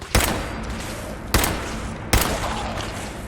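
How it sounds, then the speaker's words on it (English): Three separate, sharp gunshots from the video game Fallout 4, each a loud crack spaced about a second apart, with a steady hissy background and no speech. "Oh, and a couple of shots."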